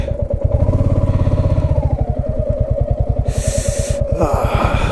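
A motorcycle engine idling nearby with a loud, rapid, regular thumping putter; a brief breathy hiss cuts in near the end.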